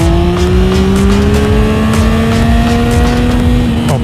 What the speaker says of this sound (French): Le sifflement du 3 cylindres couplé à un moteur démon, c'est incroyable.